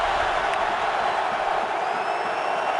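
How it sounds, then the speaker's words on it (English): A large stadium crowd at an NFL playoff football game roars in a continuous wash of cheering, loud and sustained throughout. "this crowd"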